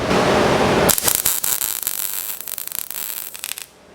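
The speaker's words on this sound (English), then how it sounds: "I'm going to continue this weld up the rest of the way" A Vevor MIG250 welder lays a MIG weld bead, giving a loud, harsh crackling buzz that runs for about three seconds and then cuts off abruptly.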